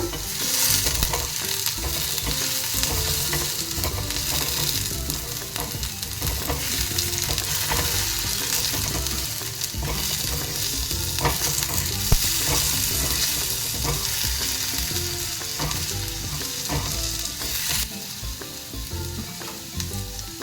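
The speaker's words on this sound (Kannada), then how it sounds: "ನೋಡಿ, ಆಲೂಗಡ್ಡೆ ಫ್ರೈ ಆಗ್ತಾ ಇದೆ" Potatoes fry in a pan for a steady, continuous sizzle, with stirring scrapes and clinks running through it, close and even throughout.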